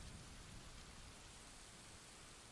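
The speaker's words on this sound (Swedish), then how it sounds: "Så vi inte behöver höra regnet här då." Steady rain from the video game Ganryu 2 hisses continuously as a dense, even wash of noise, with no talking over it.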